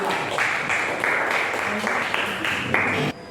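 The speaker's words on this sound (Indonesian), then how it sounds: "Tepuk tangan buat kelompok 5" Classroom audience gives a round of applause for presenting group 5, a dense, fairly close burst of many hands clapping with some pulsing accents, cutting off abruptly near the end, with voices mixed in.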